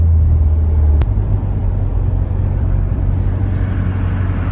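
Deep, steady engine rumble from a car with a centrifugal supercharger idling at an early-morning street car meet, loud and close, with a single sharp click partway through and no talking.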